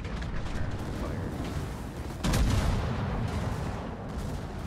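Ship guns booming in a video game naval battle, a continuous rumbling barrage with one sudden louder blast midway, heavy low thuds layered throughout.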